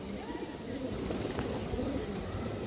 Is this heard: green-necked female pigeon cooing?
yes